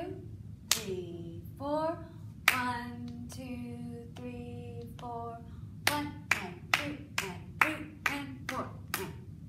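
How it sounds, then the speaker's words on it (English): Hands clap in a steady counted rhythm, with a run of sharp, evenly spaced claps toward the end, while a voice speaks and counts through much of the passage. "this time I'll clap with you"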